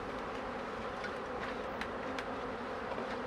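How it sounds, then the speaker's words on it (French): A small swarm of honeybees buzzes in a steady, dense drone close by, the sound continuous and even, with occasional higher whines from individual bees passing near. "C'est pas un gros essaim, hein"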